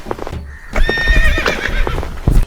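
A horse gives a loud, close whinny with rising and falling pitch, with hoof clip-clops underneath in a Malayalam comedy scene.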